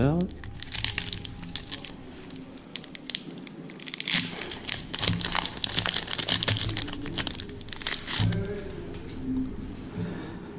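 Magic the Gathering booster pack wrapper torn open and crinkled by hand, a close, busy crackle of foil crumpling with several loud tearing bursts and a voice speaking at points.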